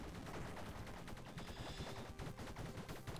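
Gunfire from the video game Bleed, rapid continuous bursts of shots like a machine gun, dense and steady throughout at a low overall level, with no talking.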